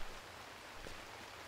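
Heavy rain pours down steadily in the woods in the video game H1Z1, a faint, even hiss of falling drops with no other sounds over it.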